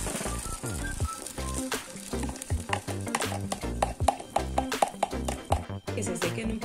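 Eggs fry in hot olive oil for scrambled eggs with garlic and cilantro, sizzling and crackling steadily while a utensil stirs and scrapes the pan, with some clinks along the way.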